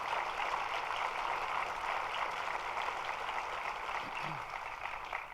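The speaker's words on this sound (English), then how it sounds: "Let's give her a round of applause." A government budget event audience applauds for Senator Monica Martinez, a steady hiss of clapping heard from a distance, sustained and fairly faint throughout without talk over it.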